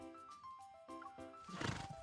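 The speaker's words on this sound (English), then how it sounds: "Silas suddenly smacks the horse beside him" In the video game Love and Deepspace, a horse whinnies in a long, wavering neigh followed by a louder snort and rustle, fairly close and quiet.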